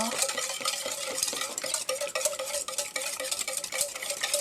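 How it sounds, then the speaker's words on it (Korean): A sugar mixture for strawberry cake batter is stirred briskly in a bowl, producing continuous close whisking and scraping strokes at a steady rapid rhythm. "자, 고루 섞어주세요."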